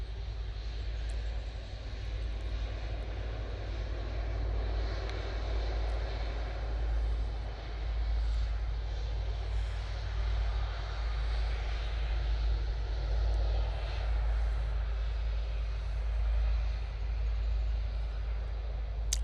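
Pegasus Airlines Airbus A320 on short final into Manchester Airport, arriving from Istanbul, a steady, continuous jet engine roar with a strong low rumble that holds at an even level throughout.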